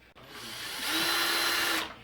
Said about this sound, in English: all of the little hinge pieces need to be drilled out with a 1/16 bit